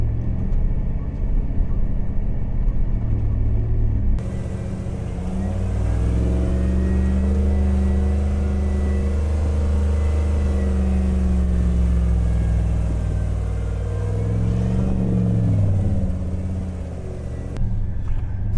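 A Jeep crawls over Moab slick rock fins, its engine giving a steady, loud low rumble that swells with gentle revs throughout, with no talking.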